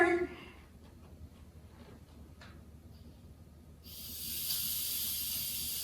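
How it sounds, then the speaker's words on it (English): Steam venting from an Instant Pot release valve, a harsh broadband hiss that starts abruptly and holds loud and steady for the last couple of seconds, after a quieter stretch of room noise. "Do you hear the steam coming out?"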